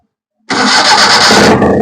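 A Maruti Omni van engine cranks and catches with a sudden onset, then settles into a steady, loud, close idle that runs on without a break.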